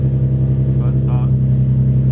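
Car engine idling steadily right after its first start following new installs, a low, even rumble close by with a voice briefly over it.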